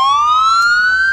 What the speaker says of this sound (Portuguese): Cadê a sirene?